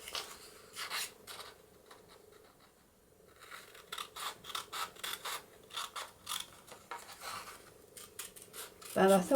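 Scissors snip through paper to cut a piece for a handmade envelope, giving close, rhythmic bursts of cutting strokes separated by short pauses, with a louder handling noise at the end.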